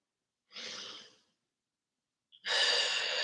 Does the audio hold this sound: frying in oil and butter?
no